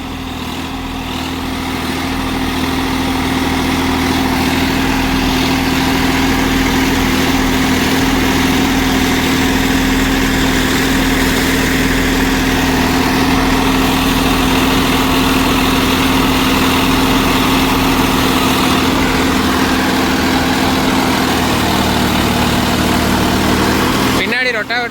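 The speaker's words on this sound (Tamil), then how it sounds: "ரொட்டாவேட்டர்னு பார்த்தீங்கன்னா மேஸ்ட்ரோ ரொட்டாவேட்டருங்க." A Swaraj 963 FE tractor drives a Maestro banana rotary tiller at about 1700 engine rpm with the PTO at 540 rpm. It gives a loud, steady engine drone with a constant hum that runs unbroken for the whole stretch.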